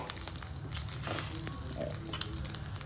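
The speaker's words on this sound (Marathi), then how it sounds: "त्याची थोडी अंडी शॅलो फ्राय करून घेऊया" Eggs shallow frying with chili powder and turmeric in a pan over low heat, giving a soft, steady sizzle and crackle with a few small pops, close and quiet.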